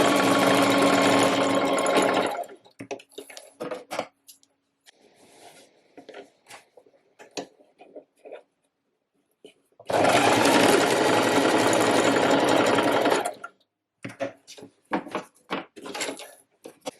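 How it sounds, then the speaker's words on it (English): A sewing machine runs at full speed as it stitches the ends of an elastic trouser waistband in two loud bursts. Between the bursts come quiet handling noises and light clicks. "So just sewing along those two ends."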